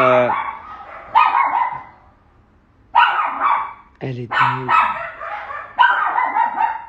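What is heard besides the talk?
dog barking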